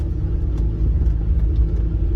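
An Austin 1100 driving very slowly through woods, its engine giving a steady low rumble close by with a faint mid-pitched drone and small bumps over the road, no voices.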